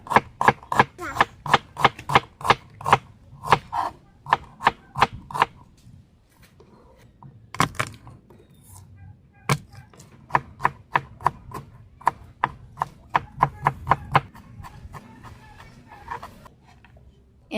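Onion being chopped with a knife on a board for pancit bihon, a quick even run of crisp knocks, a short pause, then another long steady series close by.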